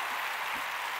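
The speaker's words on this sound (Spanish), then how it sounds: "Un aplauso de verdad" Steady applause fills a live Spanish talk show studio, a dense wash of clapping throughout with no voices on top.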